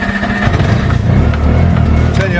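A tuk tuk's small engine turns over with the key and catches, settling into a loud, close, low-pitched chugging idle that fills the rest of the moment.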